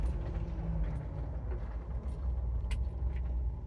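A 2022 Ford Bronco Badlands Sasquatch rolls slowly on a test hill and then brakes, giving a low, quiet rumble of engine and drivetrain with faint mechanical clicks and a brief hiss. No one speaks.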